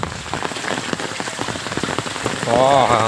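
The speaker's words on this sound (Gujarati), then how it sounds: "કેવો જોરદાર લાગે એ વરસાદ" Heavy monsoon rain pours steadily onto a village street, a dense even hiss of drops on surfaces throughout, with a brief tonal noise swelling at the very end.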